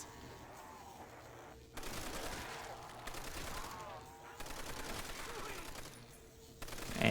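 Rapid video-game gunfire in Call of Duty: World at War Zombies on the Verrückt map, with bursts of automatic shots in two or three loud volleys, separated by brief pauses, and faint talk underneath.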